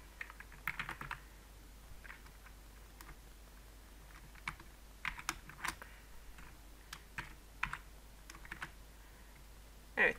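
Sparse, quiet keystrokes on a computer keyboard, scattered single taps and short bursts spread across the stretch, with a slightly louder click at the very end and no talking.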